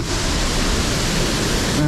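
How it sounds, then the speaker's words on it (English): Trefflingfall waterfall in the Ötschergräben gorge in freezing weather, heard from close behind its low winter flow: a steady, dense broadband rush of falling water, loud and unbroken throughout. "You can crawl behind the waterfall."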